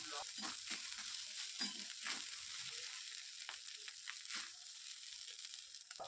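Leftover rice tempered with spices and a pinch of sugar sizzles and is stirred in a pan, a soft, continuous frying crackle with occasional stirring scrapes and no talk.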